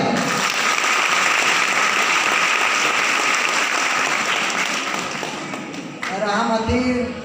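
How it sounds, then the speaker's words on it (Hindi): Loud, dense clapping from an audience at a Safe Shop business gathering, sustained for several seconds, fading slightly near the end before a voice cuts in. "आज हमारे गुरु अप्लाइन लोग के लिए बहुत जोरदार तालियां।"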